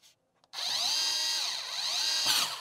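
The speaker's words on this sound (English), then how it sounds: "The last step, close the cover and fix all the screws." A powered screwdriver whirs steadily for about two seconds, up close and loud, fastening the cover screws on a Yeastar P Series PBX hardware unit, with a short tick of handling just before it starts.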